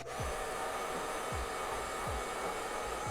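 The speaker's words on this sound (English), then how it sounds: "And then you can go through and blow dry the rest of the hair if you want." A hair dryer blows hair with a steady, close, whooshing roar that continues unbroken, with faint low thumps recurring in the background.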